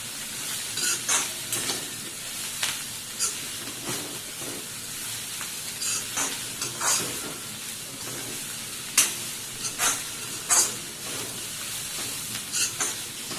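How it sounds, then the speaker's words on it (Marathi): Dried jawla shrimp fry in oil in a pan, with a constant sizzle broken by repeated scraping strokes of a spatula stirring the shrimp at irregular intervals. "आता हा अगोदर तेलावर परतून घेऊया"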